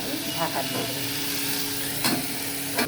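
Okra curry in a pan sizzling and frying as it is stirred, a steady hiss with scraping strokes near the start and end, close and moderately loud.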